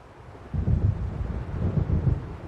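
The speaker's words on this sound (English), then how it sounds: "It seems there's a storm coming." Low rumbling thunder of an approaching storm in Alan Wake, a deep rolling roar that swells in after a quiet start and keeps churning, with windy, rainy noise underneath.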